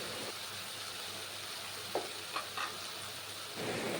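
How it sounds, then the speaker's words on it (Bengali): Spice paste of ground chili, turmeric, salt and several green chilies stir-fried in a pan, with a low steady hiss under a few scraping stirs near the end; no voices. "তো এটা দিয়ে ভালো করে কষিয়ে নেব।"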